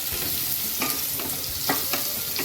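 Chopped onion browns in hot oil for a dhaba-style Khandeshi shev bhaji, giving a steady close sizzle broken by a few sharp scrapes and stirs of the spatula, with no talking.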